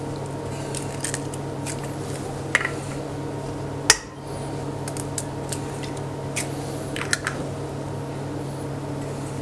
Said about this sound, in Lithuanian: išmušam kiaušinius